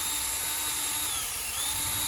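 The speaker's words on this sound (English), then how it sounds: "Here I'm drilling a hole a little bit off center that I can hammer the fork into." A power drill boring a hole into a wooden pitchfork handle, a steady loud close whine that holds without pause, with a slight dip in pitch midway.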